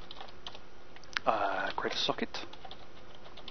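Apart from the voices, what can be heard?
typing on a computer keyboard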